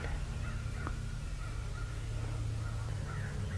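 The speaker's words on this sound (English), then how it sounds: "The crows, the hawks, the cows were making noise." Crows caw a few times at a distance in a quiet woodland setting near cedars, brief harsh calls over a low steady background hum, with no talking.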